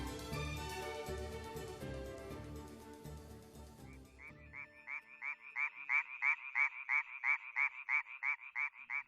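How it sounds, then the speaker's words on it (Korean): Tree frogs croak in a loud, regular series of rapid pulsed calls that take over after a dense stretch of other calling in the mountain forest of Hallasan, each burst close and evenly spaced. "청개구리 울음소리가 요란한 걸 보니 장마가 시작되려나 봅니다."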